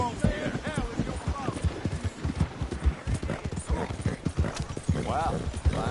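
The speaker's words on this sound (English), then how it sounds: "Wow, fine horse there." Horse hooves clip-clop at a steady walking rhythm in the video game Red Dead, close and continuous, while voices talk over them throughout.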